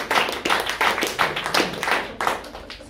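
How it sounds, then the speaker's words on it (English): Rhythmic hand clapping from a small audience at a Toastmasters club meeting, close and distinct individual claps in a quick, fairly even pattern. "So great round of applause for SA,"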